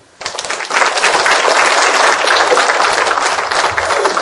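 After a brief hush, a lecture audience breaks into a big, dense round of applause for the professor who gave the humanities talk, sustained and steady throughout.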